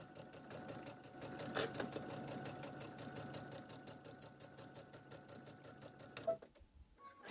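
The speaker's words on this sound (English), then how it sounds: "we are going to stitch all the way around, making sure we leave an opening" Sewing machine stitching a quarter-inch seam around a floral apron, a rapid, even mechanical rattle running for about six seconds, then stopping with a few clicks, close and steady.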